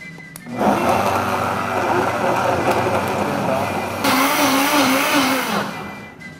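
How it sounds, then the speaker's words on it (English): A blender blending a strawberry smoothie whirs loudly and steadily for several seconds, its motor pitch shifting slightly partway through as it runs on high. "you can just blend it on high for about 1 minute or until it's blended smoothly"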